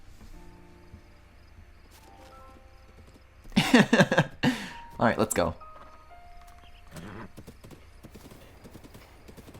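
Epona the horse in Zelda: Breath of the Wild, a short burst of loud clattering hoofbeats and snorting sounds in the middle, with someone speaking briefly nearby and quiet game ambience around it.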